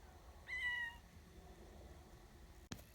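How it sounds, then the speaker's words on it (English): A mother cat meows outdoors on a cattle farm: one short, clear meow early on, faint and somewhat distant, then quiet background with a brief click near the end. "Mama cat's out there."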